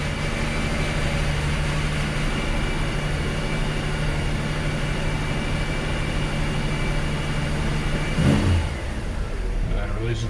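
Steady engine hum from a 1986 Ford F150 running at idle, close and continuous for about ten seconds, with a brief louder rumble and thump near the end as the truck is put into gear.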